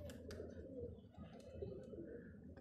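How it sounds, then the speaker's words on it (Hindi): Pigeons cooing in soft, low repeated calls with a few brief wingbeat flutters, faint and somewhat distant in a quiet rooftop setting during pigeon training. "ऊपर से हमारे कबूतर ऊपर आ गए हैं"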